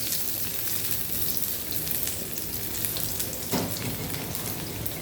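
Dried red chillies fry in hot oil, giving a dense, continuous crackling sizzle that stays steady and fairly loud throughout, with one brief sharper pop near the end.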